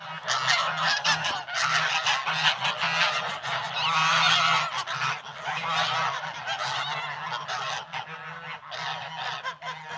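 A flock of ganders honks loudly and continuously while fighting, a dense, overlapping chorus of harsh calls close by with no pauses.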